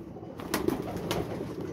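Pigeons from a flock of thirteen high-flying birds give soft, low cooing calls close by, a few brief murmurs over a faint background.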